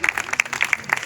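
Applause at a women's welfare society event in India honoring a village sarpanch, with continuous sharp claps from a small gathering running throughout at moderate volume.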